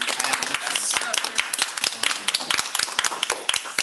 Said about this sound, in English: give a nice round of applause for our lovely panelists